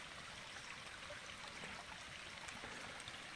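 A small stream runs beside a forest trail, giving a faint, steady trickle and wash of water at a distance, with no voices.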